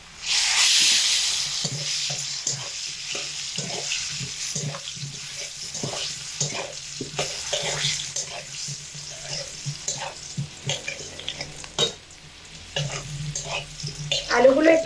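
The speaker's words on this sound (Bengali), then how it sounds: "লাল লাল করে ভেজে নিতে হবে" Cut potatoes, salted, fry in a pan, a steady sizzle and crackle throughout with repeated scraping stir strokes, close and fairly loud.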